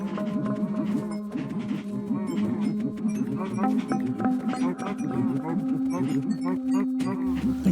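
Minecraft cows lowing in a dense cluster of overlapping moos as they are killed, loud and close, with a voice talking over part of it.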